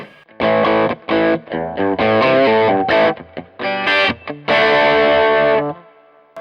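Electric guitar through the Tube Screamer setting of a JHS Bonsai 9-in-1 overdrive pedal, gritty distorted chords and short riffs in choppy bursts with a longer ringing chord near the end, loud and close with no talking.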